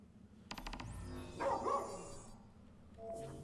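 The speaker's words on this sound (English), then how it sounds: "I want to chase the barking." A dog barks in a snowy area of Final Fantasy XV, a few distant yips and barks sitting under game music and ambient effects, moderately faint.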